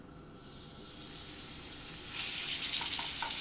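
Steak dropped into a hot oiled pan, a quiet steady hiss that swells into brighter, louder sizzling partway through, with no talking.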